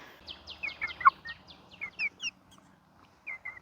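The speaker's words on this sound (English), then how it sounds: "she has just like a really quiet little chirp when you hold her" A Rhode Island Blue hen gives quiet, high little chirps while being held, a quick string of soft peeps close by, a short pause, then two more faint chirps.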